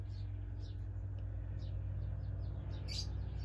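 A female African grey parrot gives a string of short, quick chirps and whistles, faint and moderately distant, riding over a steady low rumble of background noise.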